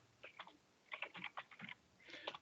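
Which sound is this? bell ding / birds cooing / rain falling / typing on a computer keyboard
typing on a computer keyboard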